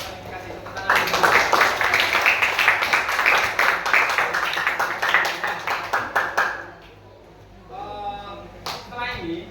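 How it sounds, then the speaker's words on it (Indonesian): A class of seventh-grade students claps together in a classroom, loud rapid hand claps lasting several seconds before fading out, with a teacher speaking briefly afterward. "Kasih tepuk tangan dulu."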